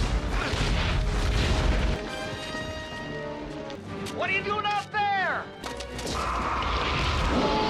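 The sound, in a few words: bombs exploding in a 90s monster movie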